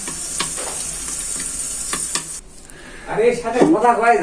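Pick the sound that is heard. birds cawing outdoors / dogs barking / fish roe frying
fish roe frying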